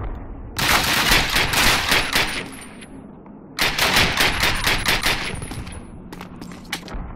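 Rapid automatic gunfire in Call of Duty rattles in two long sustained bursts with a short pause between, loud and close, then trailing off into scattered shots.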